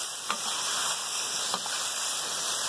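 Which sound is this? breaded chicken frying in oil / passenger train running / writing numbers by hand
breaded chicken frying in oil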